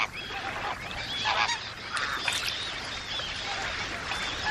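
A flock of flamingos honks and gabbles in a wetland near freshwater springs, a dense goose-like chatter of overlapping calls that rises and falls in bursts, steady and close, with no talking.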